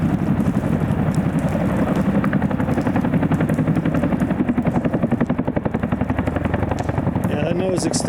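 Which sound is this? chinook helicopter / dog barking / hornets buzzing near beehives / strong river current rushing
chinook helicopter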